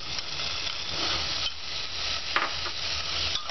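Chopped potatoes, green chili and almonds are stirred in a pan over very low heat, with a continuous close sizzle and intermittent scraping and stirring strokes. No one speaks.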